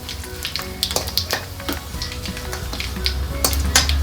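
Chicken liver fries with cumin and garam masala, a crackling sizzle broken by sharp scrapes and taps of a utensil against the pan, close and busy throughout.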